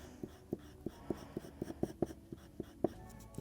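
A colored pencil colors the tips of paper flower petals in short, rhythmic scratching strokes, soft and close, with no talk.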